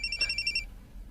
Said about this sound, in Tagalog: yung cellphone, ibagting